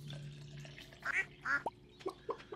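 Several short nasal duck quacks from the Stardew Valley farm game sound in a loose sequence over a low steady background hum, clear and close, with no talking.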